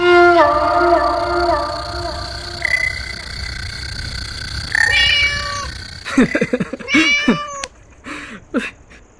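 A cat meows in several drawn-out, wavering cries, loud and close, followed by a later burst of sharper yowls.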